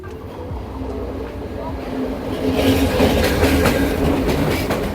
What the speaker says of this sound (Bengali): কথা বলতে বলতে ট্রেন এসে পড়লো